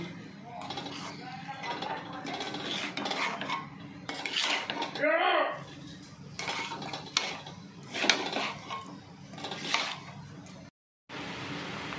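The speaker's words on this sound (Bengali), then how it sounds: "এবারে ডুমুর আর আলুটা দিয়ে দিচ্ছি। দিয়ে ভালো করে মশলার সঙ্গে মিশিয়ে নিচ্ছি।" Figs and potatoes are stirred with spices in a pan, a metal utensil scraping and clinking against the pan in close, repeated strokes with brief pauses.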